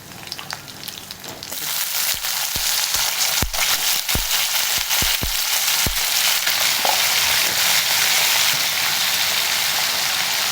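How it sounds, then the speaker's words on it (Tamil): Raw plantain fries in oil with fennel, crushed garlic and curry leaves, producing a loud, close hissing sizzle dotted with sharp crackles and pops that give way to steady frying. "வாழைக்காய் வறுத்துக்கலாம்"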